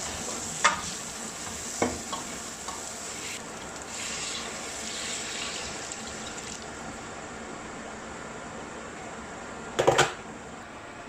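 Water poured into a hot pan of sambar with potatoes, giving a continuous low sizzle and bubbling, punctuated by a few sharp scrapes and clinks of a spoon stirring against the pan, loudest near the end.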